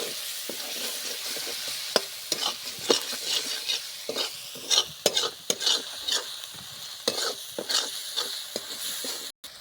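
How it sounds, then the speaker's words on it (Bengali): Spices with turmeric and chili powder, plus a little water, are stir-fried in a pan, with a steady soft sizzle broken by repeated scraping and clinking of a utensil against the metal as the mixture is stirred, close and fairly quiet. "দিয়ে হলুদটা দিয়ে দেব, লঙ্কা পাউডারটা দিয়ে দেব, দিয়ে ভালো করে কষে নেব"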